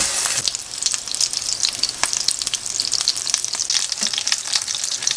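Zucchini slices pan-fry on low heat, giving a close, steady sizzle full of small crackles and pops, with no one speaking.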